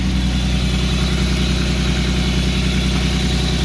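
A car engine idles with its idle actuator unplugged, making a steady, close, unbroken mechanical hum with no voices.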